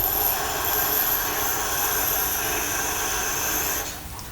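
Negative rake scraper being sharpened on a grinding wheel, giving a steady, loud broadband grinding whine with a high ringing tone that runs continuously and then drops away near the end.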